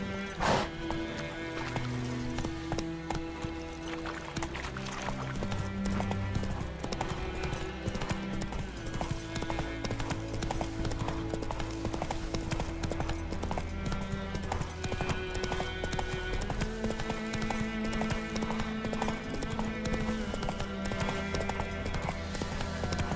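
Galloping hooves of Roach, the horse in The Witcher 3, pound steadily and loudly through the whole stretch, layered over game music, with a brief whinny near the start.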